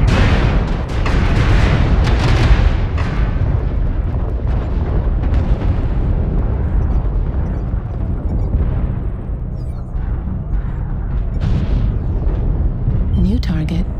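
Booming missile impacts and explosions from MechWarrior Online battle mech combat, loud and continuous with heavy low rumble, several blasts running together, with voice alerts in between.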